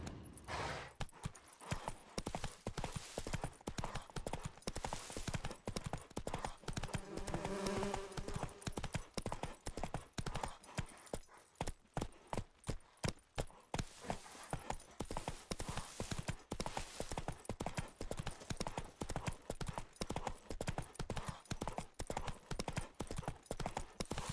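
Horse hooves clip-clop in a steady, continuous rhythm as Roach is ridden in The Witcher 3. The hoofbeats run close and clear throughout, with a brief whinny-like sound along the way.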